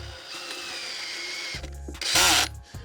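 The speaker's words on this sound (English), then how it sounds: "what you heard there was the clutch stripping out on this, and that's intentional" A power drill drives an eye strap screw into a pre-drilled hole, whirring steadily before its clutch slips with a brief rapid ratcheting clatter, followed by a short louder burst.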